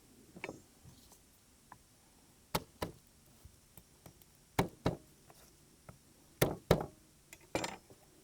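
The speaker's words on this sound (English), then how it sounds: "If you crush the bulb a little bit, it just makes it easier to peel." A garlic bulb being crushed and broken apart for peeling during campfire cooking outdoors, heard as a series of sharp knocks and cracks, spaced irregularly and fairly close, with quiet gaps between them.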